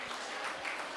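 An audience claps in a brief, dense burst of applause, steady and fairly loud with no voices over it.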